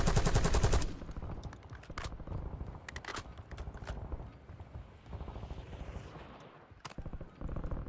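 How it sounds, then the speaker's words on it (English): Assault rifle fire in Call of Duty Warzone: a loud opening burst, then scattered sharp reports and short bursts over continuous game noise. "you're not supposed to shoot somebody that far away with an AR anyway"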